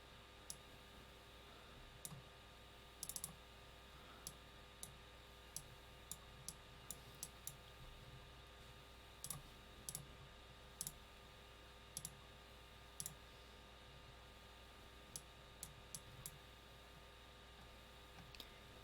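A computer mouse button clicked again and again at an irregular pace, each a sharp, faint tick over a steady background hum during live severe-weather radar coverage.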